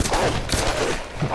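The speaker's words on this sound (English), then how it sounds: "Distant gunfire." Distant gunfire in the Tomb Raider video game: a dense burst of rapid shots, faint and far off, filling the moment as a steady fusillade with no talk over it.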